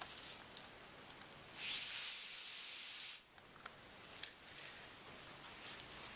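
An NSK high-speed dental handpiece sprays an oil mist into a paper towel: a steady loud hiss that starts abruptly, holds for about a second and a half, then cuts off, leaving quiet room tone.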